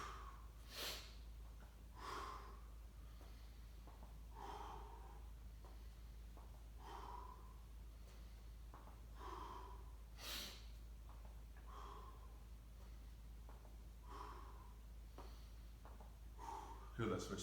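Repeated breathy exhales during an elbow-to-opposite-knee crossover exercise in a home strength workout, coming in a steady rhythm about every two seconds over a low constant hum, close and moderately quiet.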